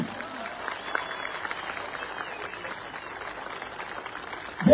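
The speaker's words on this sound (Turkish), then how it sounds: "yürekten bir alkış." A crowd at a Turkish political rally claps warmly in a broad, even wash of applause, fairly distant and diffuse, with a louder voice or cheer breaking in right at the end.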